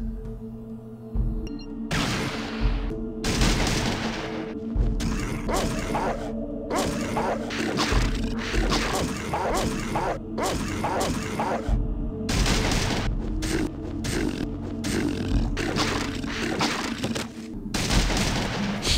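Shotgun blasts boom again and again in the Fallout video game, in irregular bursts of sharp reports mixed with impact and clatter sounds, loud and close, sometimes overlapping.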